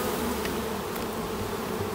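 Honey bees buzz steadily around an open hive during an inspection, a dense, continuous hum close by with no talking.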